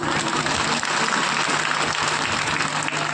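An audience at a village blessing gathering on a padayatra claps steadily, a dense, continuous wash of applause close by with no pauses.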